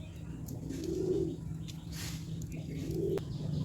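Pigeons in a small private aviary give two soft, low coos, one early and one near the end, over a quiet steady background hum, with no talking.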